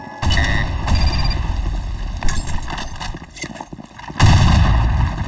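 Gunfire sounds in a video game during a live stream, sharp shots over a loud, busy game soundscape with rumbling and hoof-like thumps, ending in a heavier boom.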